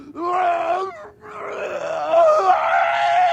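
A person screams in a groaning, warbling voice, imitating a Yoda scream; the strained cry lasts over three seconds with a brief break, loud and close.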